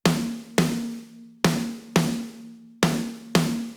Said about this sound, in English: We've got our first snare trigger.